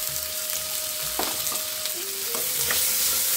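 Tomato and garlic with turmeric sautéing in a pan for a banana flower gravy, a loud close sizzle with scraping stirs and a few clinks of the spoon.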